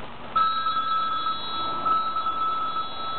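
A telephone rings with a steady electronic tone that pulses in two longer bursts, close and clear against a faint background hiss.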